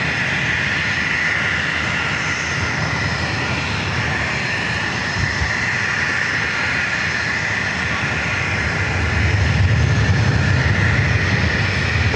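An airliner powers up for takeoff on runway 27 at San Diego airport, a loud, continuous roar of engines heard from a distance, steady throughout and swelling slightly toward the end.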